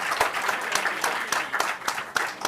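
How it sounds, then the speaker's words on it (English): Audience applause at an app launch event with MS Dhoni and Sanju Samson, a dense, loud burst of clapping from a crowd that stays steady throughout, with faint voices mixed in. "Big round of applause for these amazing gentlemen."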